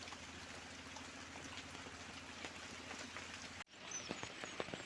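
Steady hiss of rain falling onto surfaces, with scattered drop patters throughout and a brief cut before it resumes, no voices.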